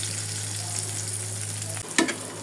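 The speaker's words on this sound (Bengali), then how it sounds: "দিয়ে আরও কিছুক্ষণ পেঁয়াজগুলোকে ভাজবো।" Onions and green chilies fry in a pan with a soft, steady sizzle and a brief clatter of stirring near the end, quiet and close, under a low hum.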